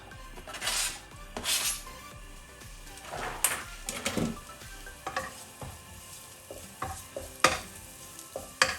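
Garlic and spring onions frying in vegetable or olive oil in a pan, a soft sizzle broken by scraping stirs and clinks of a utensil against the pan, fairly close and quiet with no talking.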